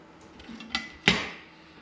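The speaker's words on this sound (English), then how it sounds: "I'm cutting this as thin as possible" A couple of crisp knife strokes cut thinly through food on a cutting board, quiet and close, the second tap sharper than the first, with no talk.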